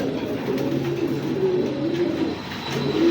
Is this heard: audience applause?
no